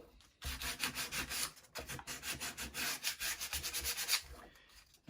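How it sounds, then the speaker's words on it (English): Sandpaper rubs against wooden toothpicks on a 3D wooden mechanical model kit, a quiet, close, continuous run of short rhythmic scraping strokes with a brief pause near the start. "So here I'm gonna put a little bit of sandpaper to the toothpicks."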